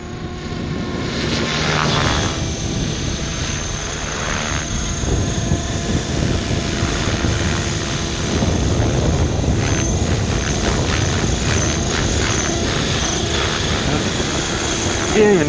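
A T-Rex 600 ESP 3G flybarless radio-controlled helicopter running on a 12S battery whirs steadily overhead, its rotor and motor drone holding under outdoor wind noise for the whole stretch, with a voice faintly present.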